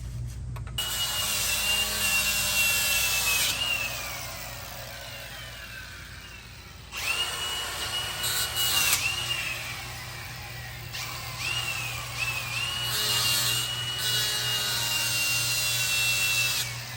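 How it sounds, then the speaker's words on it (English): A bench grinder cuts a small bevel on the edge of a 700R4 automatic transmission part, its loud steady whine changing pitch in pulses as the metal is pressed against the wheel and eased off, with no voices. "Actually, I could grind a little bevel on it this way"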